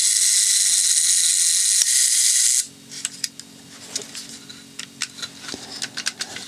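A vintage camera's clockwork self-timer runs with a loud, steady mechanical buzzing whir for about two and a half seconds, then stops abruptly. A scatter of small, sharp mechanical clicks and ticks follows.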